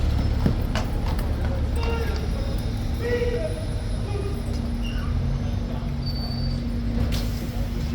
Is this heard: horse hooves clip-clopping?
yes